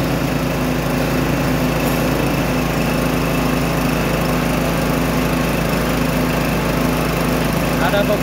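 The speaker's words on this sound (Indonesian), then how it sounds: "ini dalam proses pengeboran sumur dalam di daerah Ciputat" A small engine drives a deep well drilling rig on a job site in Ciputat, its loud, constant buzzing drone running without letup, close and dominant.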